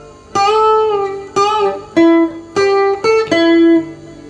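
Several plucked electric guitar notes, each string bent up one whole tone and held, ringing clearly one after another with short gaps, no voices.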